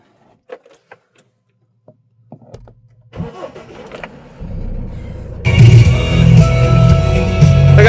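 A new car comes to life: a few faint clicks and door sounds, then the engine cranks and starts, and its running hum builds into loud, steady driving noise with road rumble.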